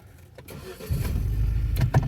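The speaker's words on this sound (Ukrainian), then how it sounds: "Заводимо автомобіль." A Hyundai Sonata NF being started, with a short crank followed by the engine catching and settling into a steady, close, loud idle rumble, no talking.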